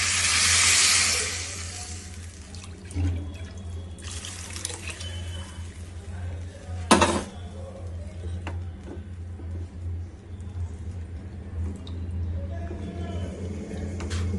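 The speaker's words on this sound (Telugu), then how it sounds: "ముందుగా కలిపి పెట్టుకున్న చింతపండు రసము ఇందులో పోసేస్తాం అనమాట" Tamarind juice being poured into a pot of curry, a steady splashing stream that is loudest at the start and then settles into a softer, continuous trickle.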